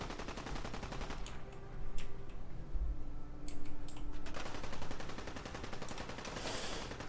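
Pipe pistol gunfire in Fallout 4 cracks out in rapid repeated shots over a dense background of battle noise and clicking, with bursts clustered near the start and middle and a steady clatter throughout.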